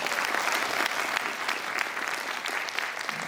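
An audience at an education forum claps steadily throughout, a dense, even wash of many hands at moderate loudness with no talk on top.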